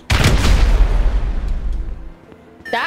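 A loud explosive charge blows open a locked door during a heist in the video game GTA V, a single heavy boom with a long rumbling decay that fades over about two seconds before a brief game sound.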